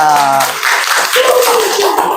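Students in a classroom clap together in a brief round of applause, heard under overlapping voices and chatter.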